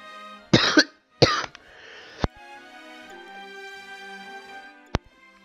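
Two harsh, loud coughs come close together near the microphone, followed by a shorter throat sound, then quiet game music hums underneath with one sharp click later.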